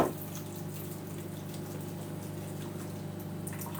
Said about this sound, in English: We're going to drain off that water.